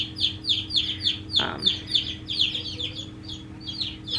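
Baby chicks in a brooder peep loudly and rapidly, raising a shrill alarm. Close, high chirps repeat in quick succession over a low steady hum, with one short rustle partway through.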